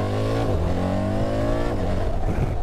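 BMW R1300 GS motorcycle accelerating hard, a loud close engine roar with pitch climbing through the revs and a brief gear-change dip, continuous with no talk.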